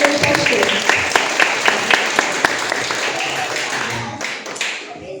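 At a church event, an audience claps in sharp, uneven bursts. The applause is moderately loud with talking mixed in and thins out toward the end.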